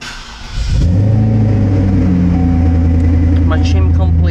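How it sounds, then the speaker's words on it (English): A 2016 Cadillac XLR engine cranks and catches, settling into a steady, loud idle rumble with a slight rev, heard close up after a brief quieter lead-in. "Start the car."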